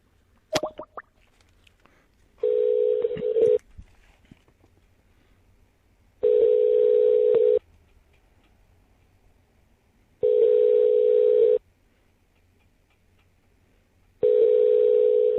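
A telephone call placed from a phone: a few quick clicks, then repeated long ringback tones in an even on-off cadence, about four bursts with silent gaps between, clear and close.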